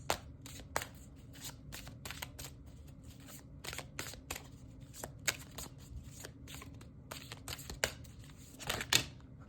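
Quiet, close shuffling of a tarot deck for a pick-a-card reading: a long run of soft card flicks and taps in irregular rhythm over a low background hum, with no talking.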